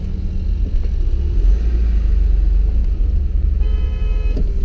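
A 1991 BMW 525i E34 engine hums low and steady at about 1000 RPM while climbing uphill, with loud, continuous cabin rumble and a faint car horn toot near the end.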